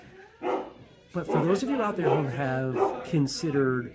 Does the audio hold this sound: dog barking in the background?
yes